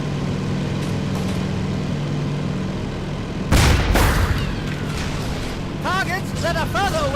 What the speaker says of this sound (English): You'll have 5 seconds before the grenade goes off.